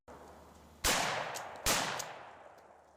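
Heavy fighter cannons and repeaters in the space game Star Citizen fire in two loud, sharp bursts, each with a long rumbling decay. The bursts are close and there is no talking.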